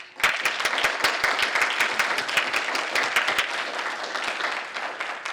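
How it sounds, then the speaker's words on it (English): An audience at an awards ceremony breaks into warm applause, many hands clapping loudly and steadily, with a few sharp individual claps standing out before it thins. "recognize all of our award winners again with another round of applause"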